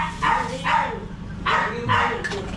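A dog barking in a few short bursts at close range, with some voices and background noise mixed in.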